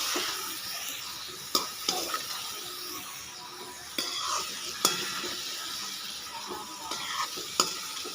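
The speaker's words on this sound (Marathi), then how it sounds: "छान असं मसाले असे परतून घेऊया." A spiced masala with chopped capsicum is sautéed in a pan, producing a steady moderate sizzle broken by occasional sharp taps and scrapes of the stirring spoon, with no talking.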